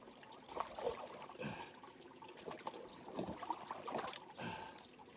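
Water trickles and splashes steadily into a filter bag at a high-elevation backcountry campsite, with soft uneven gurgles and brief louder pours, close by and with no talking.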